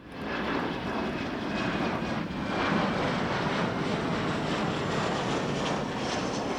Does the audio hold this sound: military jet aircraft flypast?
yes